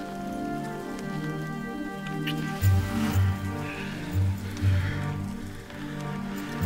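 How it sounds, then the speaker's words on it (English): Rain falls steadily, a constant hiss of drops with low rumbling thuds mixed in, filling the background throughout. "I do love the rain, though."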